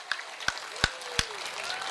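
A handful of separate claps ring out from a religious gathering audience, honouring housewives: four sharp, spaced hand claps over a soft murmuring room, fairly faint overall.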